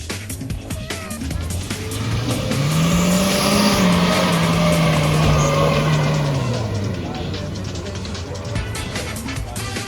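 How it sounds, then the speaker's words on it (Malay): Kia Sportage 4x4 descending an off-road slope using engine braking, a loud sustained engine drone whose pitch rises and falls over several seconds, with people talking over it. "Sportage nak turun dulu. Dia buat brake, engine breaker dia kata, engine breaker."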